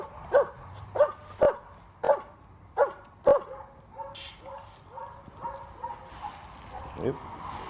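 A dog on command lets out six sharp, loud barks in an even rhythm over the first few seconds, then trails into quieter, looser yips and rustling, with a faint voice in the background.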